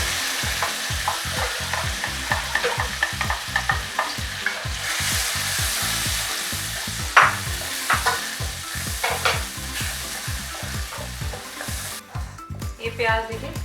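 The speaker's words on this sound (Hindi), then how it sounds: "ये प्याज देखिए एकदम भुन के तैयार हो गया है।" Ground onion paste frying and being stirred in a pan for pav bhaji, a loud continuous sizzle broken by rhythmic scraping strokes of a spoon, close and without talk.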